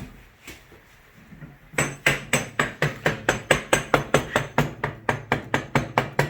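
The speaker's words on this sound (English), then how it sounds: "don't be shy about tapping it in with something. Maybe like a rubber mallet" Rubber mallet tapping an axle into the rear wheel of a Suzuki SV1000 motorcycle: after a quiet start, a steady run of about twenty sharp, evenly spaced, fairly loud knocks, close by and with no talking.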